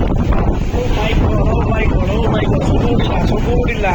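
Strong gusting wind of a Kalbaisakhi storm in Bhubaneswar, a loud, continuous roar battering the microphone, with rain mixed in and no pauses.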